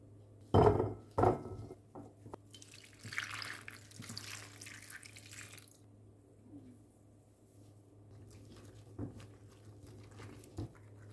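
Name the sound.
washing soaked cauliflower under running water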